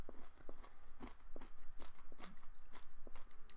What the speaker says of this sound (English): So I don't know if you can hear me chew or not.